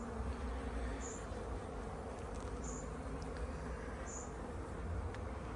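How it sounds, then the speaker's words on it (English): Honeybees robbing a hive buzz in a steady, faint drone, with a few brief higher whines as individual insects pass nearby. "the robin bees are just awful this time"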